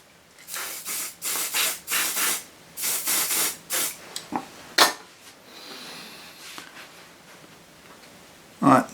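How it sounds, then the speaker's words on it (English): Short hissing bursts from a spray can or bottle aimed at a part of a Swedish wrap tool with Delrin pushrods, several quick sprays in a row, then rubbing and handling noises and a clunk at the end. "I'm just going to give that a bit of a spray."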